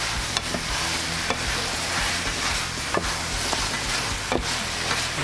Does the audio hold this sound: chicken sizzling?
yes